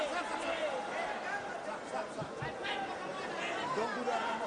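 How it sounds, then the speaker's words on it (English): Boxing arena crowd at a fight between Donnie Nietes and Ramon Garcia, a steady roar of chatter and cheering with no single voice standing out. "Listen to the crowd."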